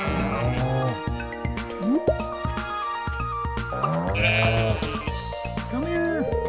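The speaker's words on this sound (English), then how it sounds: "Come here, sheep!" Sheep in the farming video game Stardew Valley bleat repeatedly in overlapping wavering calls, loud and close, mixed with the game's music and sound effects.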